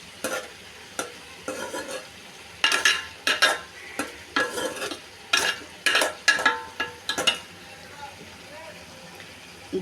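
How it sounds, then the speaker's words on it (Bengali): Cucumber sautéing with local prawns, green chillies and cumin in an oiled pan: a steady sizzle broken by repeated loud scraping stirs in an uneven rhythm, close up. "তো সব কিছু দিয়ে শশা কষিয়ে নিচ্ছি।"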